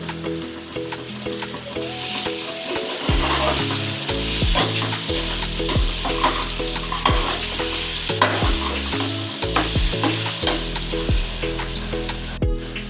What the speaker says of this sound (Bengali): একটু ভালো করে শুকনো করে কষে নেব